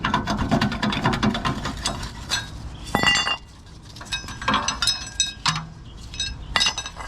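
Metallic clinks and ratchet clicks from a wrench removing 18 mm bolts on a Nissan Xterra differential, in close bursts of sharp clattering between quieter pauses.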